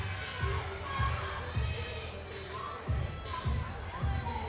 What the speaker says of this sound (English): You can see the crowd loves it in the background